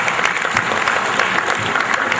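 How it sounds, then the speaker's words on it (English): An audience at a humorous speech contest claps in steady, dense applause that fills the whole stretch with an even roar and no breaks. "I think maybe it needs a round of applause to get it right."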